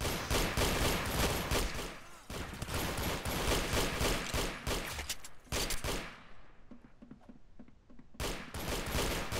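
Dense, continuous gunfire from a Roblox shooter, Petit CSGO, rattling in long bursts with brief pauses around two and six seconds before the firing resumes, loud and close throughout.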